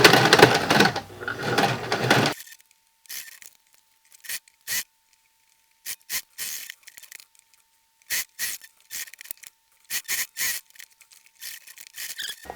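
A sewing machine stitches fabric for a face mask: a dense whirring run at the start, then short bursts of stitching separated by pauses, near and moderately loud.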